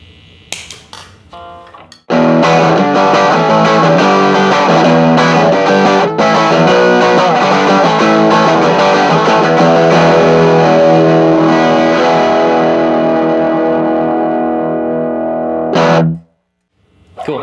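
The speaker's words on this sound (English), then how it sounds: "here's what the pedal sounds like with everything flat on the TS808 side, and in the down position for the voicings" Overdriven electric guitar through a JHS Sweet Tea pedal set to its TS808 side, playing a loud, continuous distorted riff for about fourteen seconds before cutting off, with faint pick noise before and after.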